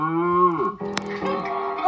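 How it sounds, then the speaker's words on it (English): A cow gives one long, loud, sustained moo that slides downward and fades, followed by a few softer low sounds and a short click. "Well, moo to you too, cow."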